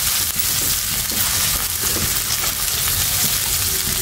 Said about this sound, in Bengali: এখানে পেঁয়াজ, রসুন আর আদা দিয়ে দিচ্ছি। এগুলো আমি হালকা বাদামি করে ভেজে নিব।